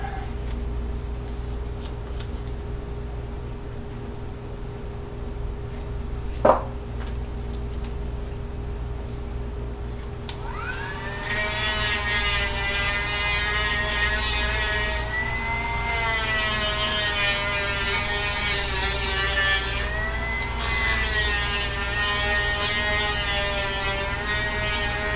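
Beeswax is worked into the edge of a leather card slot on a field notes case. After a single sharp tap and quiet, a steady high-pitched rubbing friction starts near the midpoint and carries on continuously to the end, with slight swells in pitch.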